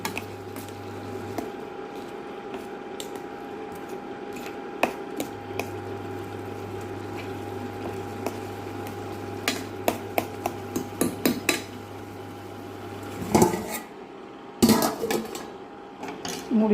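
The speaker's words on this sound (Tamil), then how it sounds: "போட்டு திரும்ப அதை கிண்டிகிட்டே இருக்கணும்." A spatula scrapes and clicks against a pan as bottle gourd fry with crumbled masala vadai is stirred, giving sporadic sharp taps that grow busier toward the end over a faint background hum.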